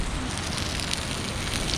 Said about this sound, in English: Flipping weather, don't know if you can see it, but it is raining.